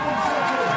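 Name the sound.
crowd cheering for BMX flatland rider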